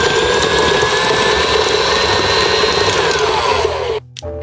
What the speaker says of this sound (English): put it in your mixer, lock it in, and then turn it on.